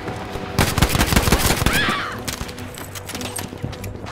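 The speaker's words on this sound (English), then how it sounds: "Stop shooting me." Rapid bursts of gunfire from the video game Battlefield 5, with several loud clustered shots early on, then scattered lighter pops and some faint game noise.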